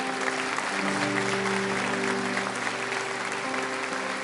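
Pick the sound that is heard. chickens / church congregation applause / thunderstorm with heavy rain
church congregation applause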